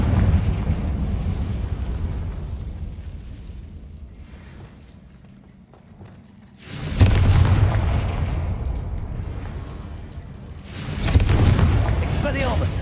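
Confringo spell explosions in Hogwarts Legacy, two loud booming blasts several seconds apart, each with a sharp onset and a rumbling decay over quieter ambience, with a voice speaking at times.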